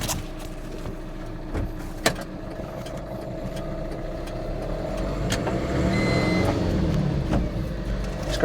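Tata Intra V70 pickup truck pulling away in first gear with no load, its engine a steady mid-pitched drone that swells gradually as it gains speed, heard from inside the cab with no talking.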